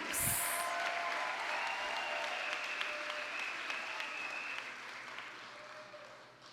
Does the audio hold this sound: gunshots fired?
no